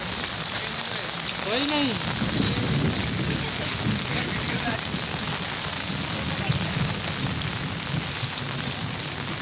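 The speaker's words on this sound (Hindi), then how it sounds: "पूरा गली मोहल्ला में पानी पड़ रहा है, क्योंकि आज के जोरदार बारिश के गरज के कारण" Heavy rain pours steadily over village lanes during a thunderstorm, a dense, unbroken hiss of water close by, with a brief voice rising above it early on.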